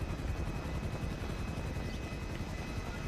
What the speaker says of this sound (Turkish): helikopterin sesinden hiçbir şey duyamıyorlar